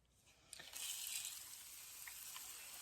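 Mosquito dunk water sprayed from a spray bottle onto seedling sprouts in an indoor grow bin; a sharp spritz onset, then a steady hissing mist that continues to the end, with a few faint taps.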